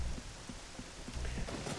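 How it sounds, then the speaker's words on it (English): Steady rain falls in Kakariko Village in Zelda: Ocarina of Time, a continuous soft hiss of drops with faint low rumbles underneath and no voices. "it's raining right now because it's raining in the aftermath of the Shadow Temple cutscene"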